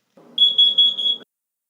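A smoke alarm in a home sounds a loud, shrill series of four quick beeps close by, over a low background murmur, then stops.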